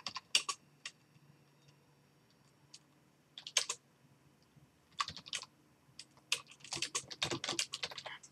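Computer keyboard typing while a newspaper column is being written, coming in irregular bursts of close key clicks separated by short pauses, busier and denser toward the end, with faint low background hum.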